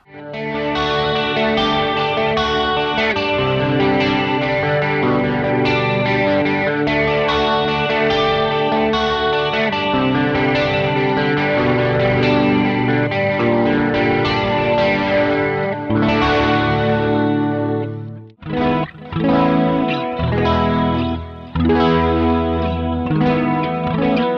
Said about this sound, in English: if I press on the chorus pedal now, or the Warped Dimension chorus